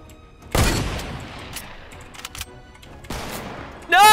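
Fortnite Battle Royale gunfire: a loud burst of shots near the half-second mark, scattered cracks and booms through the middle, and a second heavy volley near the end, with game ambience in between.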